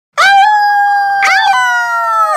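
A werewolf howl rings out loud and close, a long wavering wolf-like cry that rises, breaks briefly, then swells again and holds to the end.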